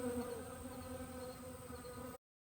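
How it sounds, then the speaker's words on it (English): Dense, continuous buzzing of many bees close by, a steady droning hum that cuts off abruptly. "Bees are absolutely all over them."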